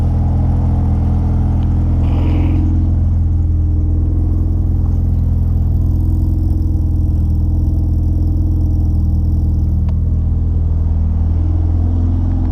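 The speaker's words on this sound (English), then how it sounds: "just wanted to start the car. Hadn't started in like a week, so thought I would just turn it on and see how she's running" A Honda Civic EG hatch fitted with a K20 engine idles after sitting unused for a week, giving a steady, loud low rumble close by with an even, unbroken drone and no speech.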